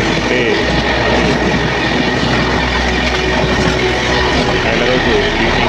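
A train runs steadily along the rails in Gujarat, India, with a continuous loud rumble and faint clickety-clack of wheels filling the whole stretch, heard from on board or close by.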